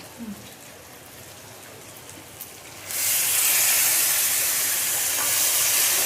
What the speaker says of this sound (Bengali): এবার আমি গরম জল দিয়ে দিই উষ্ণ গরম জল